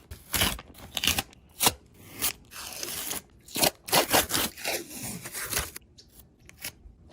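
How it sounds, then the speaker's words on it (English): Cheap no-name masking tape is peeled off a freshly painted Nissan 240SX engine block, making a series of close, crackling, tearing rips in short irregular bursts with brief pauses between pulls. "Probably gonna peel off the tape right now."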